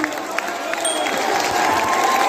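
A crowd applauds steadily with some cheering mixed in, the clapping building slightly louder over a couple of seconds.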